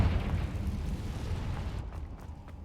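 A Confringo fire spell bursts in Hogwarts Legacy, a loud, deep rumbling blast that rolls on with a crackling tail and fades toward the end, heard alone.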